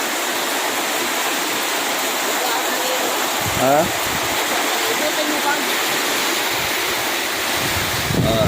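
Constant roar of strong typhoon wind and heavy rain outside, a dense rushing wash of noise with brief gusty bumps throughout.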